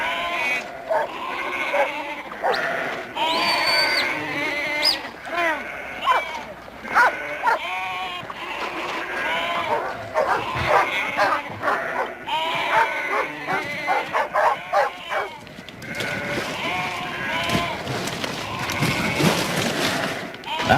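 Sheep packed tightly in a pen bleat over and over while herding dogs bark and yip among them, a dense, close, busy mix of animal calls.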